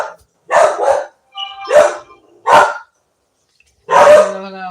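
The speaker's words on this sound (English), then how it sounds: "Sorry about the dogs barking" Several dogs bark in loud, sharp bursts indoors, a cluster of quick barks followed by single yaps and a final strong bark, fairly close with short silences between.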